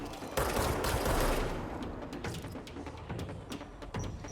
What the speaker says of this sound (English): Why is he shooting?